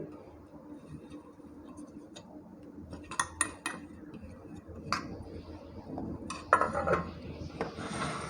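Metal idli steamer pots clink and clatter as they are oiled, picked up and set down, with scattered sharp knocks over a low, steady background hum.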